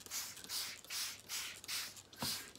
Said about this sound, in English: let your child go crazy and just spray away